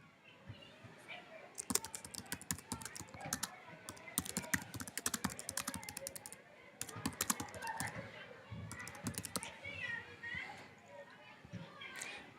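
A subject line is typed on a computer keyboard, with rapid bursts of close key clicks that pause and resume, while a person talks faintly in the background.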